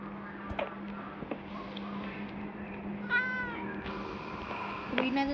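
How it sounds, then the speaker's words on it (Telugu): A cat meows several times, close by and moderately loud, over a steady low hum with faint background clicks. "పాప మీ పిల్లి అప్పటి నుంచి అక్కడనే ఉంది"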